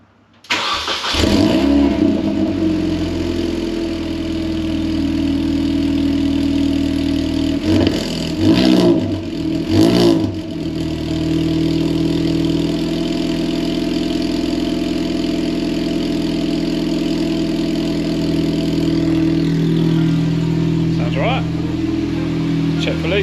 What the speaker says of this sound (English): Let's fire her up, see what she sounds like.